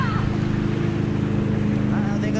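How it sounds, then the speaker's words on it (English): Waves wash around a kayak drifting on open water at Port Washington Narrows, a steady broadband rush with low wind rumble filling the whole stretch, close and continuous. "The waves are coming in."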